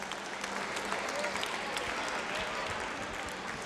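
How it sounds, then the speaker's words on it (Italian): Audience applause for the Accademia Rimini Calcio youth players at an event at Centro Atlante: steady, dense clapping from a crowd, moderately loud and sustained throughout. "un applauso ancora agli esordienti dell'Accademia Rimini Calcio"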